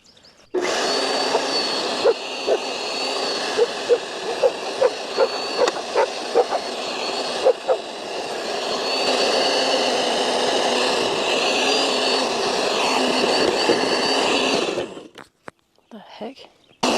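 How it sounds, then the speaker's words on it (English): Small garden tiller running in soil, a steady loud engine drone throughout with rhythmic knocks as tines hit, cutting off near the end. "This is an amazing tiller."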